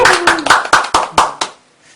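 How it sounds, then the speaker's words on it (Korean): A small audience at a community lecture on the character of God gives a short round of applause: about seven loud, evenly spaced claps close by, then quiet. "홍목님의 그런 발제를 우리 박수로 좀 한번 시작해보겠습니다"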